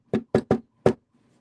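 Four quiet knocks, three in quick succession and then one after a short pause, sharp and isolated against near silence in a paranormal investigation setting.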